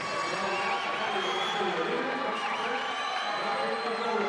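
Husky swim team teammates cheer on a swimmer at a swimming championship finals, a steady wash of crowd shouting and cheering filling the natatorium throughout.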